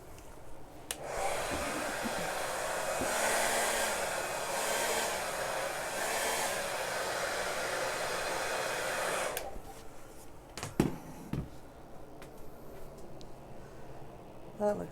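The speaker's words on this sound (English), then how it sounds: "I think I want to blow a little bit here on the corner." Steady hissing air is blown over the corner of a wet acrylic paint pour in greens and purple, a constant rush for about eight seconds that then stops, followed by a few faint knocks.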